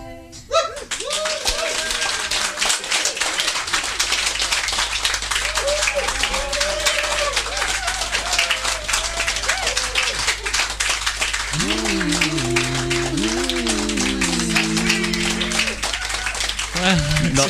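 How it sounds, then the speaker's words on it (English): Closing applause from a festival audience at an Edinburgh Festival garden session, with dense, steady clapping that fills the whole stretch, loud and close, while a voice speaks and sings over it. "ending applause"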